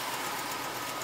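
A 1964 Chevy truck engine runs steadily, a faint, low, even mechanical hum heard only briefly, with no talking over it.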